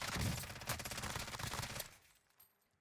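FiNN LMG hip-fired in Call of Duty Warzone: a rapid, loud, continuous burst of automatic fire lasting under two seconds, then fading echo.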